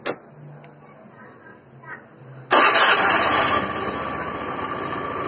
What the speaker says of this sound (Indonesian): Sekarang kita dengarkan ya suara mesinnya. Ini jauh lebih halus daripada sebelumnya ya.